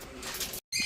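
Pigeons or doves coo softly at a resort near Mysuru, a brief low call close by amid light outdoor ambience, cut by a short gap of silence.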